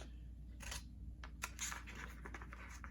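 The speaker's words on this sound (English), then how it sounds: "I'm going to take my scissors. I'm going to cut up the middle here." Scissors snipping down the middle of a small paper notepad during a mini envelope journal craft, a handful of short crisp cuts spaced irregularly over a low steady room hum, close and fairly quiet with no talking.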